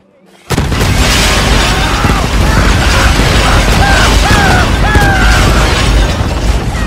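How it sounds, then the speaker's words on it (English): Loud, dense action in the video game Red Dead Online as dynamite arrows explode, a continuous roar of rapid booms and bursts, overlapping explosions packed tightly over several seconds. "spam 10 dynamite arrows in the matter of seconds to watch those crazy"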